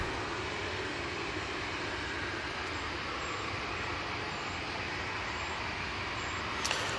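A Jet2 airliner in Jet2.com livery at Manchester Airport, heard as a steady, broadband engine roar that holds at an even level throughout, with a brief sharp sound near the end.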